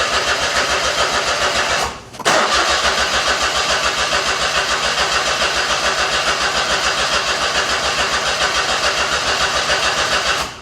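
A Smart Brabus that had been broken down for over a year cranks and catches, then idles loud and close with a fast, even pulse. A brief dip follows, and the engine runs on steadily.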